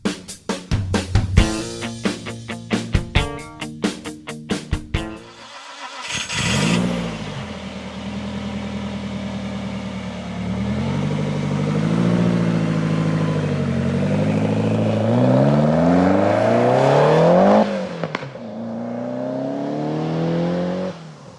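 A Lotus Esprit sports car engine starts with sputtering bursts, then revs up and accelerates with a rising, sustained roar, loud and close.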